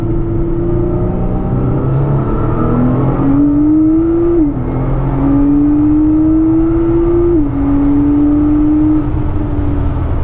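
A tuned Nissan GT-R R35 engine blips itself up on an automatic downshift, a loud close droning note that climbs, drops with each gear change and climbs again, heard from inside the car.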